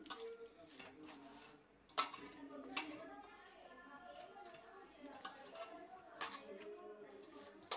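Mango pickle with spices is stirred together with about 100 grams of oil in a vessel, producing close, faint wet mixing sounds and a few sharp clinks of a utensil on the container, while someone speaks throughout.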